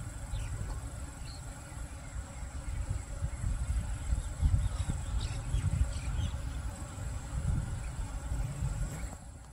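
Honeybees swarming around a beehive box outdoors, a steady dense low hum that carries on without a break.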